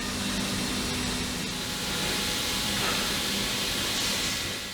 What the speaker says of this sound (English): a high level of steam is applied to bend them according to the shape required